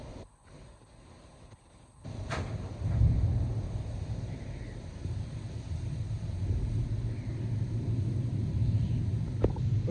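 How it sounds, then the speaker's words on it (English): Powerful thunderstorm wind rumbling, a steady low roar with buffeting gusts against the microphone that builds louder over time, with a few faint sharp knocks, no talking. "That's a powerful storm."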